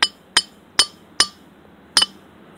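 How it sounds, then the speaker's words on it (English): A hammer strikes a glass bottle five times in a slow, even rhythm, each hit a sharp, bright clink that rings briefly, the last a quick double tap, close and loud with no talk. "Hitting it with a hammer first."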